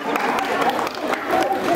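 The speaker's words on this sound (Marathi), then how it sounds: "जरा काकूसाठी जोरदार टाळ्या" Audience at a Hanuman Jayanti neighbourhood celebration claps in a short burst of crowd applause, mixed with a voice speaking over it.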